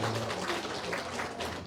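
Church congregation at a Sunday service applauding for a baby's 100th day, a dense, steady burst of many hands clapping from a room full of people.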